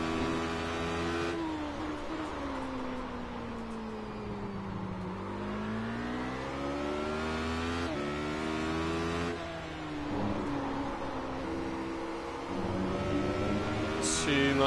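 A race car in the iRacing simulator drones steadily through a lap, its engine pitch sliding down and climbing back through gear changes and revs, continuous and moderately loud with no talk.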